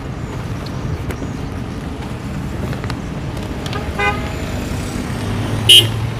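Busy road traffic rumbles along steadily, with a sharp car horn toot standing out near the end and fainter honks scattered through the flow of passing vehicles.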